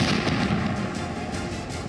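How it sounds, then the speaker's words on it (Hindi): Bomb blasts in Gaza form a continuous loud, dense rumble with repeated booms and crackling, and no voices. "सीज फायर के 7 दिन के ब्रेक के बाद से गाजा में बम धमाकों का शोर थम नहीं रहा।"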